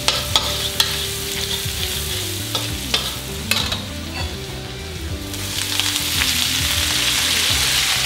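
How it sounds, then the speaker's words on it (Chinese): Vegetables with garlic stir-frying in plenty of oil in a Hakka home kitchen: a steady close sizzle with repeated scraping and clanking of the spatula against the wok, no voices. "炒素子菜一定要多油啊。"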